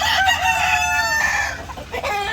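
A rooster on a farm gives loud, close clucks and throaty calls in quick uneven bursts, with no talk over it.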